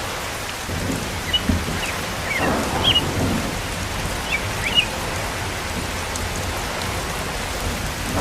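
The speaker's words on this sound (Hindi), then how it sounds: "लेकिन बारिश तो रुक जाने दो।" Heavy rain pours steadily in a cartoon scene, a dense close hiss with a low thunder rumble underneath and a few faint bird chirps.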